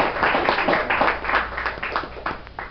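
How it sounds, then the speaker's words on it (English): Audience at a Tampa Toastmasters meeting applauding, with steady, fairly close clapping from a small room crowd that thins out toward the end. "please continue your warm of applause for Mr."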